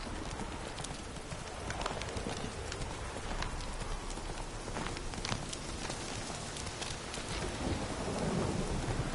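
A horse galloping in The Witcher 3, its hooves clip-clopping in a fast, steady beat through a dense wash of rain and storm noise, loud and continuous.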